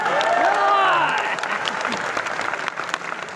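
An audience claps steadily at a business talk. A voice carries over the opening moments, and the clapping then continues as a dense, even patter.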